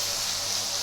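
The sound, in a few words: bowl-wash water poured into frying fish pan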